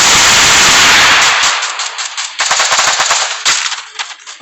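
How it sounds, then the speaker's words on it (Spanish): An M60 machine gun fires in a video game: a long, loud, continuous burst, then a short pause and two more choppy bursts of rapid shots, with no speech over it. "Griega con la M60. Me está disparando"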